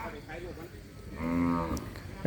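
A water buffalo at a livestock market lets out a single loud, drawn-out low moo at close range, with faint crowd noise around it.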